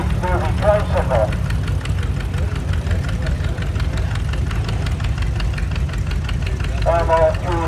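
Antique tractor engines chugging in a parade at the Florida Flywheelers show, a steady close knocking rumble throughout while a voice announces over it.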